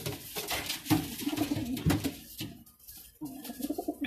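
Fantail pigeons, newly bought, coo in a steady low rhythmic murmur close by, the soft throaty calls repeating and overlapping through the whole stretch.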